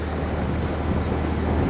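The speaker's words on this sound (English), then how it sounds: "it always gets windy." Steady wind gusting past a narrowboat on a canal near a flight of locks, a continuous broadband rush and buffeting across the microphone with no voices.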